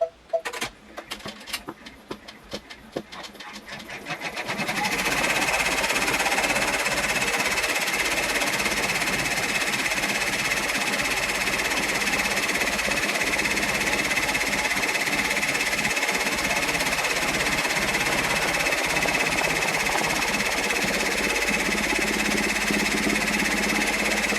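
A Brother PR1055X embroidery machine stitches fabric, beginning with a few sparse clicks and then settling into a loud, continuous, rapid mechanical chatter that runs steadily and close for over twenty seconds.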